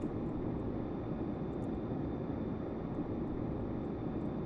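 Firefighting airplane in Stormworks: a constant, even engine drone holds steady throughout, with no change in pitch or loudness and nothing else heard.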